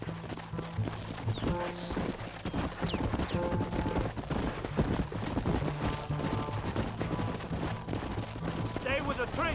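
Horses gallop with rapid clip-clop hoofbeats in the video game Red Dead Redemption, with gunfire and a whinny in the mix while voices shout over the steady, busy rhythm.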